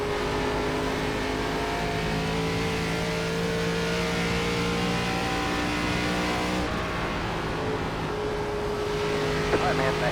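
Race car engines drone steadily on the Dover oval in the iRacing ARCA Menards Series, a loud continuous engine tone that shifts pitch partway through as cars run in a pack.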